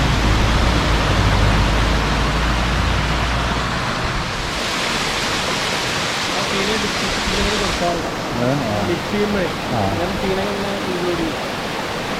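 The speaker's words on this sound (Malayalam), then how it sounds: "അത് ഈ വെള്ളച്ചാട്ടമാണ്" A steady roar of rushing water fills the scene, close and loud, with a voice speaking faintly beneath it toward the end.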